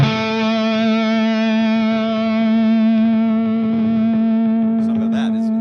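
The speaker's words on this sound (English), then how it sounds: "Caleb says the 2nd and 4 on the P90 guitar are the best" Electric guitar with P90 pickups played through effects, a thick sustained chord ringing with rich harmonics and chorus-like shimmer, loud and continuous, fading into a few brief higher scrapes at the end.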